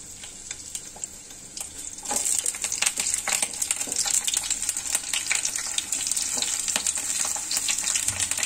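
Cauliflower drops into hot oil for a palak gobhi sabzi, and a quiet pan gives way to a sudden, loud, dense frying crackle and hiss that continues steadily, close up, with scattered spattering pops.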